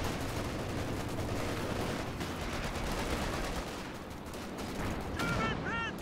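Rapid, sustained gunfire barrages in a competitive video game match, dense overlapping shots rattling continuously at moderate distance, with a few faint honk-like tones near the end.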